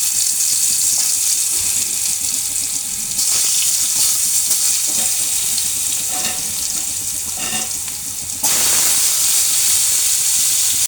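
Vegetable bhaji frying in hot oil, a loud, dense, continuous hiss and sizzle that drops back briefly and surges again near the end, close up with no talking.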